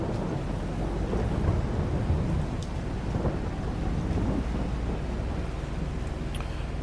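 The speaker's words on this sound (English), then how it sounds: "still pouring down rain" Steady heavy rain with rolling thunder in Farming Simulator 22, a continuous dense downpour with low rumbles throughout and no talking.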